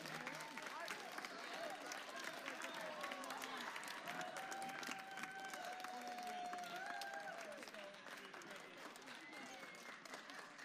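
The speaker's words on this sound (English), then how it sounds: "Let's give another round of applause for our tournament champions today" Steady crowd applause fills the space at a middle school VEX robotics tournament awards ceremony, with cheering voices and chatter mixed in throughout.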